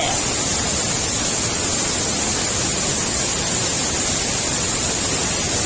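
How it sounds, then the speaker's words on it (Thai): Tad Sae waterfall near Luang Prabang pours as a steady, broadband rushing roar, loud and unbroken, with no voices. "น้ำตกตับแซ่"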